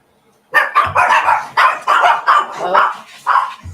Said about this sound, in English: there's the chihuahuas